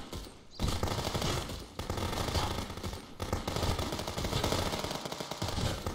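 Sustained automatic gunfire in the Contraband Police video game, dense rapid bursts running almost continuously at close range with brief gaps.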